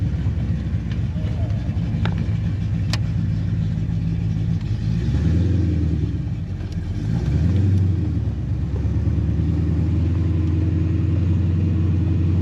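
A Ford Fox Body fitted with Holley Terminator X fuel injection cruises around the block, a steady low engine rumble with a brief dip and rise, heard from inside the car alongside talking.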